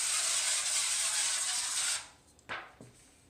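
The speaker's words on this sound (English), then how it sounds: "So I have my avocado oil spray, and I'm going to spray the pan." Avocado oil sprays from a can onto a pan in one continuous hissing burst of about two seconds, close and fairly loud. A couple of small clicks and a knock follow as the can is set down.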